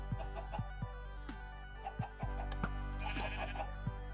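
Sheep in Minecraft bleat in short, repeated game calls, several bleats scattered over a constant low background hum.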